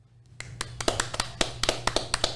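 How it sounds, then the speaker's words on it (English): Scattered hand claps from a few people in a small room for the iKrave team, a sparse, uneven round of applause rising from quiet and continuing in irregular sharp slaps with no talking. "we're gonna give it a round of applause to the iKrave team"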